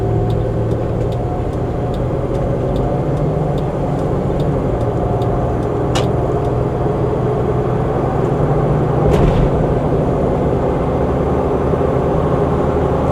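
A car accelerates to merge onto a highway, its engine drone steady and loud inside the cabin, with road noise and a couple of faint clicks.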